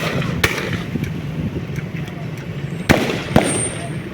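Sharp gunshot-like bangs ring out during a city security drill rehearsal, a few isolated cracks with one quick pair near the end, over outdoor background noise and shouted commands.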